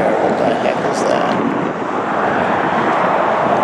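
Strong wind buffets the microphone at an airport plane-spotting spot at Los Angeles International Airport, a loud, steady roar of gusty noise that runs throughout without a break.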